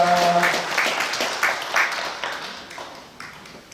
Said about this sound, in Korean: 다시 한번 축복과 격려 박수하겠습니다.